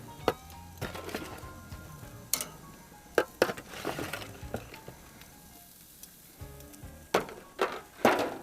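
Onions sizzle on a hot grill beside other vegetables, a steady low crackle broken by sharp clinks and scrapes of utensils being spread and moved around close by.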